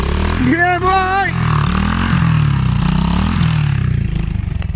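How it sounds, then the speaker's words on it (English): A GT125 motorcycle engine revs and idles close by in the woods, a loud throbbing putter with rising and falling revs, while a voice talks over it early on. "GT125. Headlight out front. Keep it revving, son."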